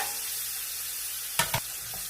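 Onions and potatoes sizzle steadily in a pan for a lemon chicken dish, a constant hiss with two sharp stirring scrapes near the end.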